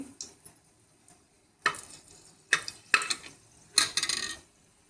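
Cardamom pods and home-grown cinnamon sticks stirred in hot oil for a spicy mutton gravy, heard as a few sharp clattering stirs against the pan, the final one longer, separated by near silence.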